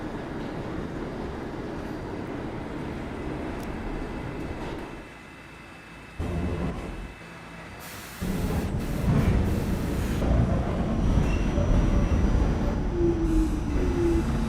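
A 1970s-textured M line subway train in a video game running along its track, a loud continuous rumble of wheels with shifts in intensity, brief quieter gaps and a later louder roaring stretch.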